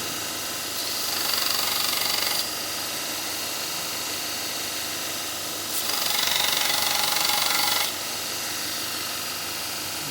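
An old steel mower blade is ground into a spokeshave blade. Two harsh grinding passes of about two seconds each rise over a steady motor drone, with no talking.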